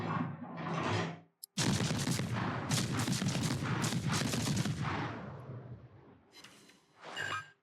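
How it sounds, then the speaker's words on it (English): A World of Warships USS Johnston destroyer fires a salvo of HE shells, the naval guns giving a loud, sustained rumbling roar of overlapping blasts that trails off, followed by a couple of fainter bursts, with no talk. "There's one salvo"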